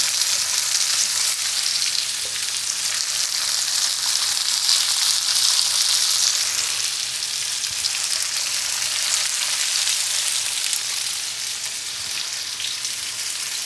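Onions frying in a pan for a vegan BBQ tofu dish, a steady close sizzle and crackle running unbroken throughout with no talk.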